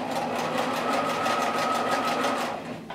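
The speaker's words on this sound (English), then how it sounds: "I'm gonna just start and backstitch." Sewing machine stitching a coiled rope bowl, a fast, even rhythmic whirr of the needle running close and loud for nearly three seconds before slowing and stopping, with a brief click at the end.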